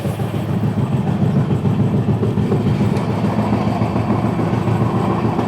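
The Samaleshwari Express, bound for Howrah from Jagdalpur, rumbles past close by, a loud, steady rolling roar with faint rhythmic wheel clatter throughout.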